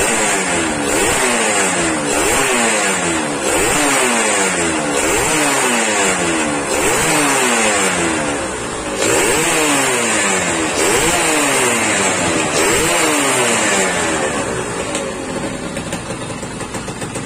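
A Yamaha F1ZR two-stroke motorcycle engine runs loud and close, its rapid ringing buzz pulsing in repeated revving surges with a brief dip partway through, with no voices over it.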